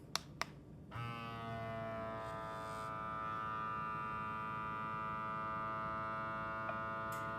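A mason jar vacuum sealer pump runs steadily with a constant droning hum and whine after a few brief clicks at the start, holding an even level until a small tick near the end.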